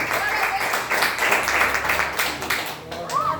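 A church congregation claps to welcome a minister during a worship service, a continuous broadband patter of many hands with a voice briefly rising near the end.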